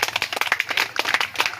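A crowd clapping together at a village road inauguration, a brief burst of fairly close, dense hand claps with no talk over it.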